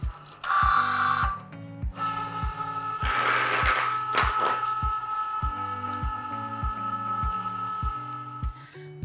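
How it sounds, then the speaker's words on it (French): A Cricut Joy cutting machine feeds and measures a long strip of Smart Vinyl with an even run of mechanical stepping clicks over a motor hum, plus a couple of louder whirring bursts near the start. "La machine a mesuré la distance nécessaire qu'il nous faut de Smart Vinyl."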